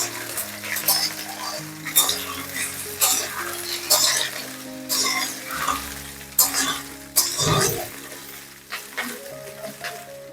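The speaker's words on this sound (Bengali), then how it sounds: "আলুটা একটু নেড়ে নিয়েছি, একটু ভাজা ভাজা হয়েছে। এবারে আমি ঝিঙেগুলো দিয়ে দেবো।" Ridge gourd and potatoes fry in a pan, with a loud sizzle broken by repeated stirring scrapes in an uneven rhythm, while a voice talks over it.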